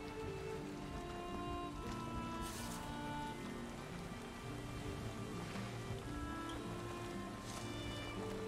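A boat sails across open sea in Valheim, with steady washing waves and rushing water under a layered musical background and faint creaks. The ambience is continuous and fairly quiet.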